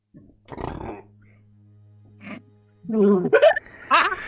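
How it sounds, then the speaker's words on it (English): A dry burp sounds close and abrupt, a short guttural croak followed by further throaty gulping sounds, against a quiet indoor hum. "That was a dry burp."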